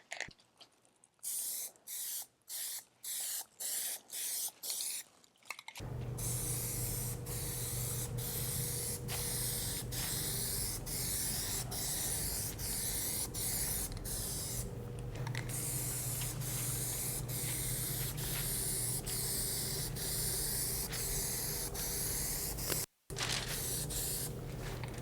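An aerosol can sprays Plasti Dip coats onto car mirrors: a series of short hissing bursts first, then a long, loud, steady spray hiss at close range with brief pauses, and no talk.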